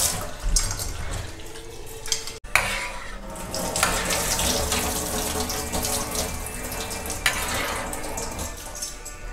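Milk pours into water in a cooking pot with a loud, continuous splashing stream, broken by one brief cut near the start, then running on with occasional clinks, close by and without speech.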